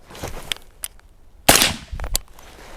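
Several sharp gunshot cracks during a firearms training drill, one much louder near the middle, spaced irregularly over a quiet background.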